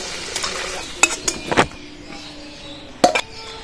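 Utensils clink and scrape against a pan while fried potatoes are lifted out, in a few brief, close metallic knocks separated by quiet.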